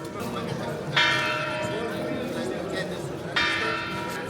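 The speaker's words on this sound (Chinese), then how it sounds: "12点了，开始敲钟了。" Church bells ring at noon in the small Catalan town of Vic, Spain, with two bright clangs standing out over a steady peal. A busy street market murmurs underneath.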